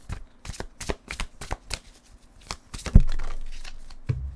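Advice cards for a card reading are shuffled by hand in a run of quick, crisp riffling bursts, close and fairly loud, followed by a couple of sharper slaps as the deck is squared.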